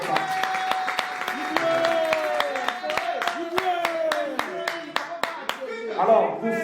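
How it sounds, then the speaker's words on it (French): An audience at a Paris press conference for a Zénith concert claps in a sparse, uneven round, with sharp individual hand claps standing out and a voice briefly heard near the end. "je vous demanderai d'applaudir, une 5e fois"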